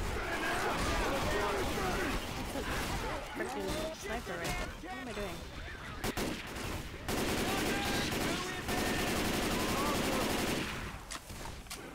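Rapid bursts of gunfire crackle through a Left 4 Dead 2 zombie shooter, mixed with other game noise under near-constant talk from players.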